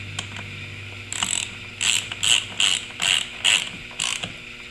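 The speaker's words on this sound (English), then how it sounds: "Grab your 1/2-inch ratchet" A 1/2-inch ratchet clicks in six or seven short, evenly spaced bursts while snugging seat track bolts on a Trans Am or Camaro, close and crisp over a low background hum.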